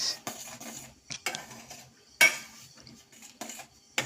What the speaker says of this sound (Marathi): मी ह्या उलटण्यानं व्यवस्थित सगळीकडं हलवत आहे